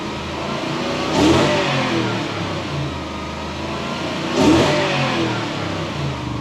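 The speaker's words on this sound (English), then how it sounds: "Enough revving." A 2013 Toyota Hilux fitted with a 3UZ V8 engine and a fuel pump fault idles steadily and is revved twice, each rev rising sharply then settling back, close and fairly loud.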